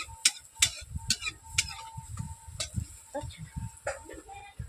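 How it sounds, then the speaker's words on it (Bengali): Aloo chop potato fritters fry in oil in a kadai over a low fire. Bubbling sizzle runs throughout, broken by several sharp clicks and taps of a utensil against the pan, with faint background murmur. "এইভাবে চপগুলো কম জ্বালানি দিয়ে ভাজা যায়"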